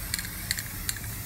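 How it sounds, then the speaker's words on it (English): An aerosol can sprays white paint onto a DIY marble-look tabletop in a continuous close hiss, with a few faint clicks throughout. "All right, I'm just spraying, making sure that I have both sides evenly"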